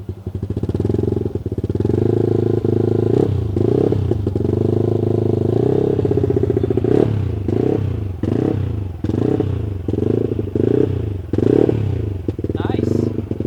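A Yamaha Aerox scooter's engine revs repeatedly through its exhaust, a loud, close buzzing drone rising and falling in bursts, with some clatter and people talking nearby.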